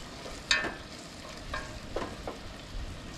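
Jalapeño chicken chili gets a quick stir in a pot at a lakeside camp, with faint scraping and clinking of the spoon against the pot over a soft sizzle, a few scattered strokes and no talk.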